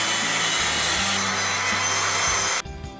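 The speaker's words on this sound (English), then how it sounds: "Now we're ready to make a second cut so that we can fit our trim" A hand saw cuts a piece of wood trim for a window installation, giving a steady rasping drone for about two and a half seconds before the stroke stops abruptly. The sawing is close and loud, with no voices.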